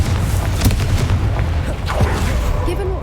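A Confringo fire spell in Hogwarts Legacy bursts with a loud booming blast, then leaves a crackling, rumbling tail under a busy game soundscape.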